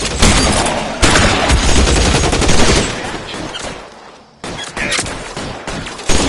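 Dense video-game gunfire from L.A. Noire crackles loudly in rapid bursts, with a brief lull near the end before the shooting resumes.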